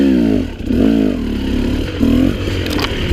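2017 KTM 300 XC two-stroke dirt bike engine on a trail, loud close buzzing drone that rises and falls with throttle blips and a gear shift, with rattling and scraping.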